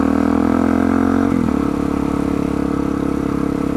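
Dual sport motorcycle on a commute ride, loud and close, its engine droning steadily and then dropping pitch at a gear change before settling into a steady rumble with some rattle.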